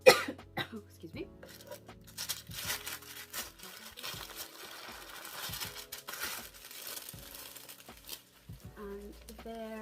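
Crisp tissue paper crinkles and rustles in short bursts as a YSL Envelope medium chain bag box is unwrapped, close to the microphone, with a cough and brief speech between the rustles.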